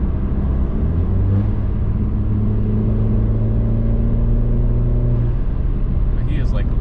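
A 2.0T Alfa Romeo Giulia with aftermarket downpipe and exhaust cruises along, a loud steady low engine drone with a rising tone, heard from inside the car.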